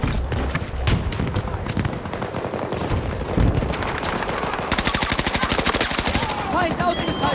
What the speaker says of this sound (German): Stehe unter Beschuss! Die schießen auf mich!